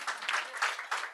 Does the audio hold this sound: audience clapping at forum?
yes